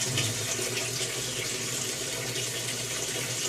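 A washing machine fills with water in a steady, loud, hissing rush that keeps going without a break, with no voices.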